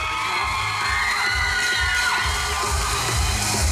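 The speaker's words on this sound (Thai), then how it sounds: "ขอเสียงกรี๊ดและ เสียงปรบมือดังๆนะคะ" A large crowd at a shopping mall stage event screams, shrieks and cheers continuously for a star, the high-pitched squealing dense and sustained over a steady low rumble of noise.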